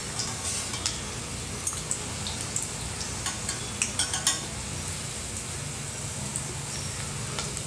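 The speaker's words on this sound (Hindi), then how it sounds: "तेल गरम हो चुका है, अभी इसमें आप पूरी डालिए" Thin puri for Karnataka suruli holige frying in hot oil, a continuous close bubbling sizzle with scattered small crackles and pops throughout.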